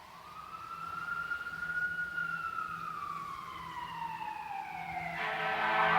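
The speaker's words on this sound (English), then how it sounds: "that siren you hear" A wailing emergency siren slowly rises and falls in pitch, fairly distant, growing louder as other traffic noise builds.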